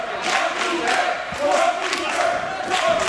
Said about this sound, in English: The crowd trying to rally the Kung Fu master.